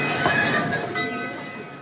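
An old Cannonball steam train on rails gives a brief, loud rolling rumble with hissing and ringing metallic overtones, fading slightly toward the end.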